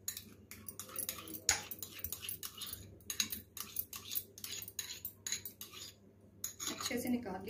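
Mayonnaise and chili garlic sauce are mixed in a bowl, a utensil clinking and scraping against it in quick irregular strokes, close by, with a brief louder knock partway through.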